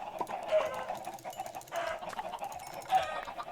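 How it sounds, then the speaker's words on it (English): Many chickens cluck together in the video game Minecraft, a busy, overlapping chorus at moderate volume, with a few sharper calls rising above the steady murmur. "That's a lot of chickens."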